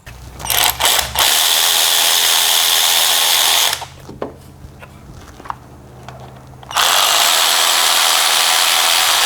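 A power tool tightens fuel injector parts on a Nissan Pathfinder 3.5L V6, whirring loudly in two long bursts close by, with short stuttering starts, a pause filled with clicks and part handling, then a second sustained run.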